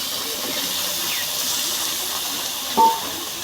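Vegetables dropped into hot oil with fried spices in a home kitchen pan raise a steady, loud hissing sizzle that runs throughout, with a brief clatter near the end.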